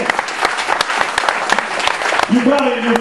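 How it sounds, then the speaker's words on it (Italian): Audience applause for goalkeeper Fabio at a football event, a dense burst of clapping close by, with a voice speaking over it at the end. "Facciamo un altro applauso per Fabio"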